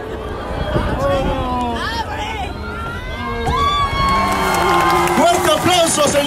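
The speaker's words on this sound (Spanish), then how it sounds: "Fuerte aplauso, señores y señoras, para este inicio de la Navidad 2019 en el municipio de Tepeaca." A crowd at a Christmas tree lighting in the municipality of Tepeaca cheers and applauds right after a countdown, with whistles and shouting voices rising in a loud, sustained wash of celebration.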